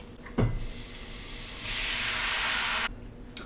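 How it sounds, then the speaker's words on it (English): Tomatoes tipped into a pot of hot garlic set off a sudden sizzle that swells into a steady, loud hiss and then cuts out, with a faint clink near the end. "now I'm gonna add all of my tomatoes"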